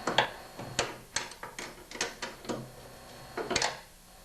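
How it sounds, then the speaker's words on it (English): A wrench turns a nut loose from a snowblower auger bolt, giving a string of sharp clicking ratchet bursts at an irregular pace, close up, with no one speaking. "Now just put one wrench on the big side of the bolt and then get the nut off."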